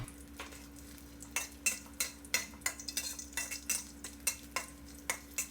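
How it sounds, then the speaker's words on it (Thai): Dried shrimp stir-frying in a little oil for stuffed tofu, soft background sizzle punctuated by a regular run of sharp spatula scrapes against the pan. "กุ้งแห้งเนื้อ 2 ช้อนโต๊ะให้เราผัดกุ้งของเราให้สุกหอมเลยครับ"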